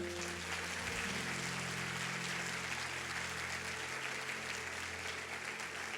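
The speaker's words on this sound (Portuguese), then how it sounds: "Você pode dar uma salva de palmas." A church congregation applauds in a steady, dense wash of clapping that fills the space for the whole stretch, with no voices standing out above it.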